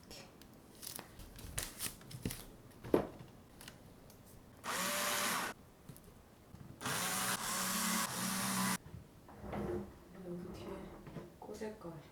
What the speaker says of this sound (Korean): 여기 이렇게 송곳으로 구멍을 뚫고 이 나사를 박아서 고정을 하는 거야.